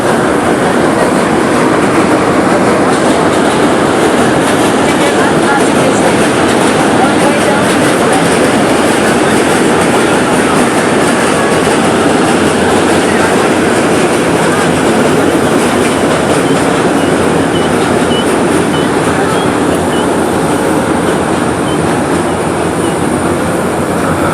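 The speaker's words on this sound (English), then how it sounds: "I think I hear a subway passing." Loud continuous roar of a New York City subway train rolling past on rails, steady rumble and hiss lasting the whole stretch, close by.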